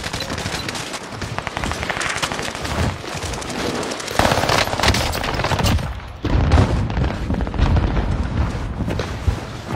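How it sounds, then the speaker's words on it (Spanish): Rapid bursts of gunfire in a video game, dense automatic fire with booming shots and dull explosions, loud and continuous throughout. "Están disparando."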